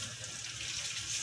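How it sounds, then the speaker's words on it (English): Hot water runs from a tap into a sink as a steady, faint hiss and splash, short and uninterrupted, with no talking over it. "Put some hot water in there."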